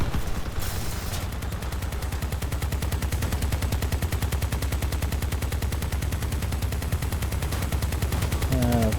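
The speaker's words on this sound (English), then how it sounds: "Harvester and grenade launcher" Harvester and grenade launcher weapons firing in the Crossout vehicle combat game, a loud unbroken stream of rapid mechanical shots that runs continuously and close, with a brief higher tone near the end.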